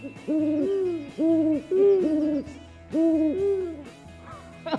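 A series of about five owl-like hoots, each a rounded, tonal call in an uneven rhythm, loud and close with no talking.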